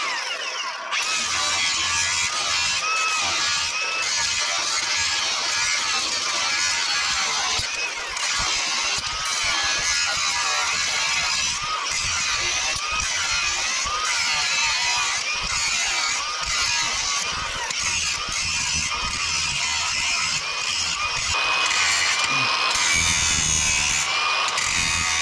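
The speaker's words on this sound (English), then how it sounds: "I'm gonna try to grind it so it still has a round on the inside" An angle grinder grinds a steel bracket for a Yamaha YXZ 1000R rear frame brace, a steady high-pitched whine and scraping that runs on without pause, close and loud.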